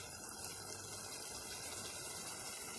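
Sauce pours steadily over freshly fried, seasoned semolina dumplings for berkoukes, a soft continuous liquid gush and splash lasting the whole moment, fairly quiet and close.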